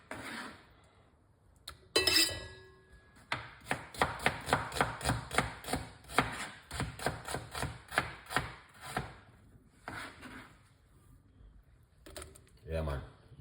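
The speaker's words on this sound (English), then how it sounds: "White onion, cutting up." A knife rapidly chops white onion on a board, making a fast, steady run of close, crisp cuts with brief pauses, while a voice talks quietly at times.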